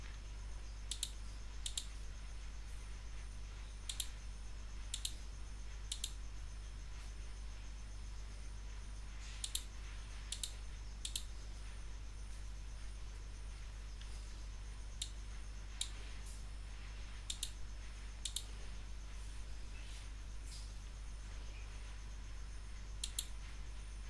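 Sparse computer mouse clicks during online sessional course registration, sharp single and double clicks at irregular intervals over a steady low hum, with no talking.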